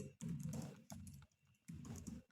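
Typing a Linux terminal command on a computer keyboard, three short clusters of keystrokes separated by brief pauses, close and fairly quiet.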